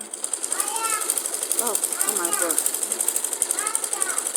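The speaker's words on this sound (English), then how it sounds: "So let's go to the sewing machine." A sewing machine runs in a fast, even mechanical rattle while voices talk and exclaim over it.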